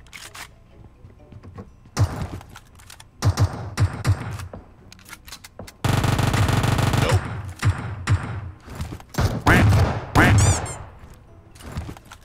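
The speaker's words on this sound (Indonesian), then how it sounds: "Tembakan." Bursts of PUBG Mobile gunfire, with single sharp shots, then a long loud automatic volley and more rapid clusters of shots.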